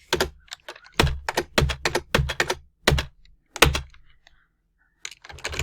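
Computer keyboard typing in bursts of sharp, close key clicks, including presses of Enter and Tab, with short pauses between clusters and a brief silence before typing resumes.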